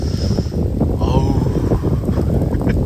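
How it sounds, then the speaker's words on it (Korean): Cold wind buffets the microphone on a snowy mountain during a winter backpacking hike, a steady loud roar that fills the whole clip, with faint breathing and movement underneath. "바람. 추워."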